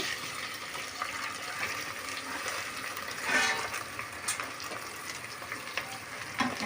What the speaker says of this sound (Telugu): ఇప్పుడు మనం తరం పెట్టుకున్న బంగాళదుంపలు దాంట్లో వేసేయాలి